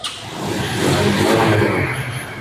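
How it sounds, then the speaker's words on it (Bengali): A Road Master motorcycle fires up on its self-starter and revs nearby, its engine note swelling into a loud, steady roar over a couple of seconds before easing slightly. "রোড মাস্টার সেলফ স্টার দেওয়া"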